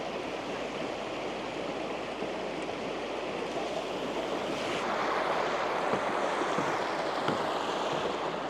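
A river flows beside a rocky goat trail in the Italian Alps, a steady rushing wash of water that swells slightly louder partway through, heard from nearby without talk.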